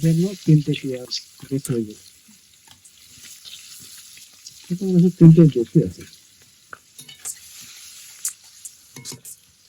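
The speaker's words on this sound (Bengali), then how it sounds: "আমি তেলে পেঁয়াজটা দিলাম মাংসের" Onions frying in hot oil for a chui jhal mutton curry give a low, soft sizzle, mostly under bursts of nearby talk.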